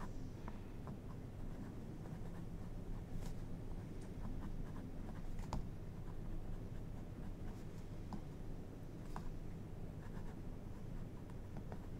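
TWSBI Eco extra fine fountain pen writing on smooth, high-quality paper: a faint, steady scratching with small ticks of strokes, heard close and quiet against a soft background hiss.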